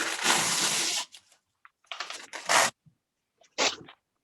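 Plastic wrap, either press-and-seal or regular cling film, is handled up close during Valentine card crafting: a second of loud, continuous crinkling, then broken rustling bursts and scattered crackles separated by short pauses.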